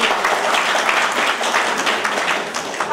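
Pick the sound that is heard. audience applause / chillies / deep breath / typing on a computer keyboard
audience applause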